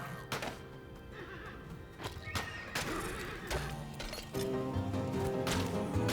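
Horses in the Western video game Colt Canyon neigh and whinny several times among clip-clop hoofbeats and sharp gunfire-like thuds, all fairly close within a busy game soundscape.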